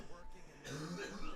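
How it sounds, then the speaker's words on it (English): A person coughs and clears their throat in the background while someone talks over it. "You can hear my roommate right now just coughing up his lungs"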